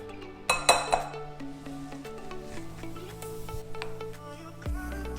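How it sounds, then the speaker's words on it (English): Seasoned cauliflower is stirred with a mayo mixture in a dish, giving clinks and scrapes of a utensil against the dish, loudest early on, then softer steady stirring noises, close and without talk. "And now we're just going to stir it all up."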